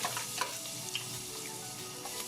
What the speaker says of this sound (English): and just let it saute for about 1 to 2 minutes